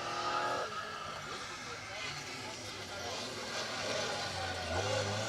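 Historic Mini race cars on a rally stage at the Hills Ford Stages 2024, with a car engine revving nearby under continuous commentary.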